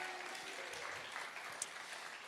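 A church audience gives a brief round of applause. The dense patter of clapping sounds faint and distant, steady throughout, with no talking over it.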